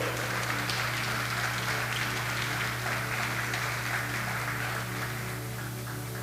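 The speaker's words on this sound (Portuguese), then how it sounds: "Você pode aplaudir o Senhor?" A church congregation applauds the Lord in a dense, sustained wash of clapping that fills the room at an even level, over a low steady hum.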